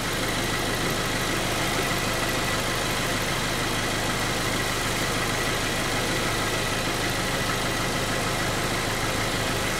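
A 2015-2019 Subaru Crosstrek engine idling during a transmission fluid change, a steady, continuous mechanical hum and rumble heard up close with no variation and no talking.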